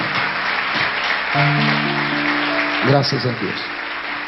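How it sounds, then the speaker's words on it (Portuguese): A church congregation applauds during a sermon service, making a steady wash of clapping. Sustained musical tones run underneath, and a voice speaks briefly over it. "Uma salva de palmas para que dê tempo das pessoas que estão andando sentarem"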